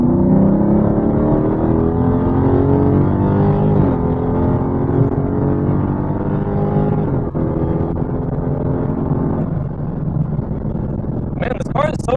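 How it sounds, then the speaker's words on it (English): A Dodge car cruises at high speed, its engine and road noise forming a steady, loud drone that holds for the whole stretch, with a short burst of other noise near the end. "this car is so composed at high speeds"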